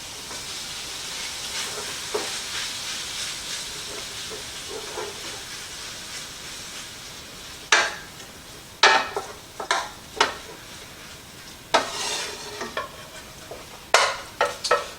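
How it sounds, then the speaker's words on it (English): Ground pork with peppers, onions, salt and pepper sizzles in a pan for mango salsa pork tacos as a steady hiss, joined in the second half by sharp, repeated scraping strokes as the meat is broken up. "With the vegetables and of course more salt and pepper, breaking up and cooking the meat for 4 to 6 minutes."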